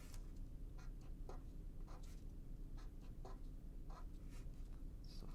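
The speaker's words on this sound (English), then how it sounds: "I'm going to write that in each measure of this square." Pen or pencil writing rhythm notation on paper, a series of short scratchy strokes in an irregular rhythm, close and fairly quiet over a steady low background hum.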